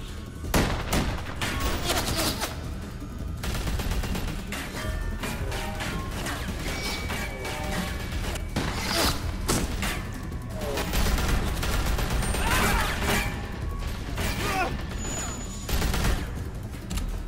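A gunfire shootout in The Walking Dead Telltale video game: dense, loud volleys of rapid shots and crashing impacts run almost without pause throughout.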